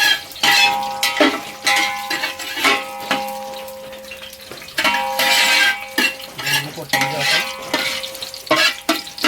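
Green chillies fry in a hot pan with a continuous sizzle, broken by repeated scraping, clinking stirs of a utensil against the metal at an irregular rhythm, close up.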